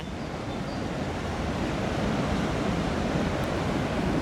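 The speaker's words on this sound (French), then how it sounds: "Et ici, il y a une écluse. Pour pouvoir passer, et bah, comment on appelle ça, cette belle cascade." Water cascades over a river lock, a steady, loud broadband rush without breaks, heard close and alone.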